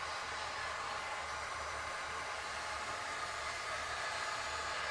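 Heat gun warming a resin pour on a dustpan, a steady, loud broadband hiss of blowing air that runs unbroken and alone throughout.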